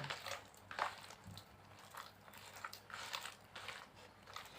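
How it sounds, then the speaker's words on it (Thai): Peeled bananas are squeezed and mashed by hand for fish bait, giving soft, wet squelching and squishing pulses that repeat unevenly, close but quiet. "ขยำเลยครับ ขยำให้เละเลย"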